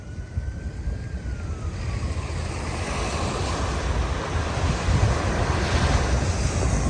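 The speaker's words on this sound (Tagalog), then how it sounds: "Yan oh, nagwe-wave po siya," Waves washing along the Manila Bay reclamation shoreline, a broad continuous surf rush that swells louder toward the end, mixed with wind buffeting the microphone.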